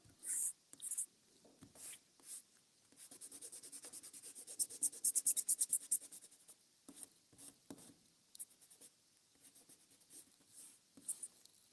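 A kneaded eraser rubs pencil lines off a paper sketch, making soft, close scrubbing and brushing strokes in quick rhythmic bursts with short pauses between them.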